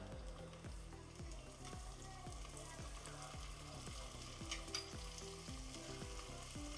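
Ginger garlic paste sizzling among fried onions in a pan, a steady close frying hiss with regular rhythmic stirring strokes scraping through, quiet overall.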